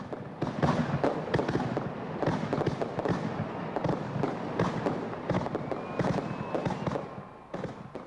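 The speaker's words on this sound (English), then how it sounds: "4th of July weekend activities came to a thunderous conclusion on Sunday night with a fireworks display" Rapid, continuous booms and crackling bursts from a Fourth of July fireworks display over Lake Orion in 1994. The explosions fill the night without a break, loud and dense, with faint crowd noise underneath.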